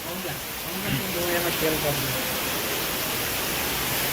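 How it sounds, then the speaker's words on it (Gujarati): Heavy rain pours steadily during a violent storm in Banaskantha, a dense, constant hiss near the listener, while someone talks over it. "વરસાદ અતિશય પડ્યો"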